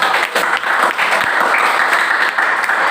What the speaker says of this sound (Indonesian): Berikan tepuk tangan untuk kelompok.